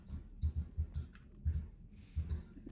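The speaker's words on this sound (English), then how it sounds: "Can you hear a keyboard?" Light rapid clicks, like computer keyboard typing heard inside the Red Dead Redemption 2 roleplay game WildRP, come in irregular bursts, faint and distant, with no one talking over them.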